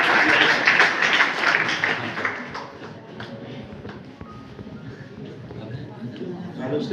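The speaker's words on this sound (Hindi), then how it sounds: "जोरदार तालियां" Applause at a college career guidance and award ceremony, loud and dense at the start, then thinning into scattered claps and crowd murmur with shuffling.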